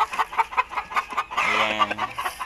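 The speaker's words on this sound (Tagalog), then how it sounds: "May mga manok pa sila dito guys sa ganyan." Chickens cluck in quick, repeated bursts nearby, with a longer, louder call rising midway, at a home in a Filipino setting.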